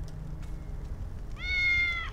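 A single short, clear cat meow from the video game Tales of the Neon Sea, heard close and alone over a low background hum after a quiet stretch.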